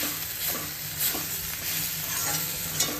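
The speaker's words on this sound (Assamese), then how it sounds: "তাৰপিছত আলুখিনি ভালকৈ ভাজিলোঁ" Potatoes seasoned with salt, turmeric, cumin and coriander powder fry in a pan. A steady, bright sizzle carries on throughout, with faint stirring scrapes close by and no voices.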